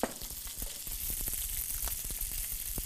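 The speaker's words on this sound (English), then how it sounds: "And then I put a tiny bit of rice. Very nice. Stir fry." Rice and small pieces of marinated meat, seasoned with a little oyster-flavored sauce, stir-fried in a pan, giving a steady close sizzle with scattered scraping and stirring clicks.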